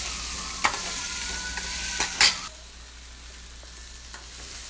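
Onions with salt fry and are stirred in a pan for chana masala, a soft, steady sizzle with a few sharp scrapes and clinks of the spoon against the pan, close and without talk.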